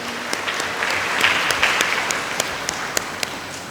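Audience applause at a church gathering, a steady wash of many hands clapping with a few sharper individual claps standing out, swelling slightly in the middle.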